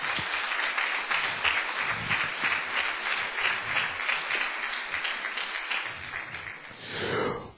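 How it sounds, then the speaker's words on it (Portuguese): A church congregation gives a round of applause to the Lord, a dense, steady wash of clapping that holds evenly, then swells briefly near the end. "Agora você pode dar uma salva de palmas para o Senhor."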